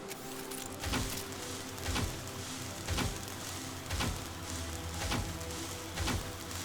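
Rain falling in the video game Planet Nomads, a steady wash of patter with soft swelling thumps recurring about once a second, alone with no talk.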